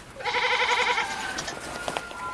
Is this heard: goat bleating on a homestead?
yes